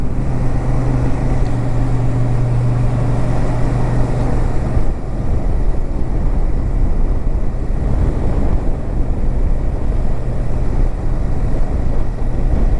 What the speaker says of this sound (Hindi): क्या मस्त आवाज़ आ रही है बाइक की।